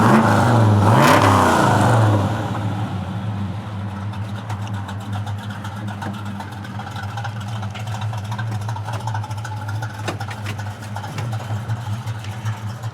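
A 1964 Chevrolet El Camino engine revs hard for about two seconds, then drops to a deep, steady rumbling idle that carries on loud and close.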